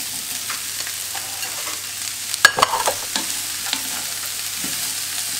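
Carrots, celery and bell peppers begin cooking in a pan with a steady, close sizzle. A short burst of stirring clatter comes midway, then the frying hiss settles back.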